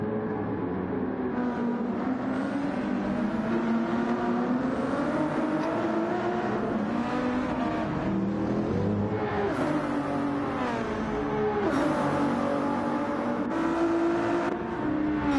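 A Ferrari race car engine in a racing video game at Laguna Seca, a loud continuous high-pitched roar that rises and falls through gear changes, with other cars droning alongside.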